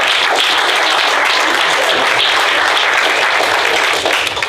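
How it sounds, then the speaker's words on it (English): Sustained, dense applause from a crowd at a city council meeting honoring the Bret Harte team's section championship, loud and steady throughout before tapering slightly at the end. "Let's give them a round of applause."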